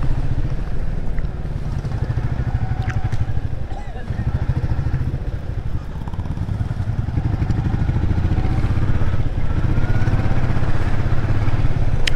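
A motorcycle riding past a long traffic jam on a highway, its mid-pitched engine droning steadily and closely for the whole stretch, with faint clatter and passing traffic noise around it.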